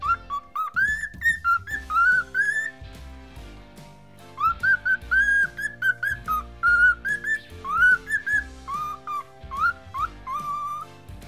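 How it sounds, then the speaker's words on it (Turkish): A pet cockatiel whistles long, melodic, sliding phrases in repeated bursts, bright and close, over steady background music. "Sultan papağanları ıslık konusunda daha başarılıdır. Uzun uzun ıslık çalabilirler."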